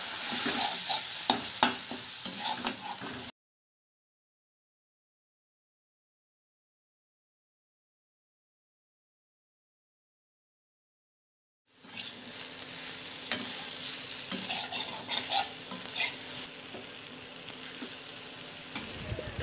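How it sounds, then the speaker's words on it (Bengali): Spice paste with salt, turmeric and tomato for katla fish curry is sautéed in a pan, sizzling steadily under repeated spatula scrapes and stirs, broken by a long stretch of silence midway before the frying resumes. "মশলাটা ভালো কষিয়ে নিলাম"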